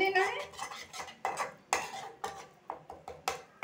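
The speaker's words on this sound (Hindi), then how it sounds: "एक दो मिनट तक मसालों को अच्छी तरीके से भून लेना है।" A metal spoon scrapes and clinks repeatedly against a kadhai as spices are stirred and fried in a little oil for an amaranth stem vegetable dish, a steady series of close, sharp strokes.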